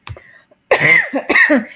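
Several harsh coughs up close: a short one, then two stronger bursts with a breath between them.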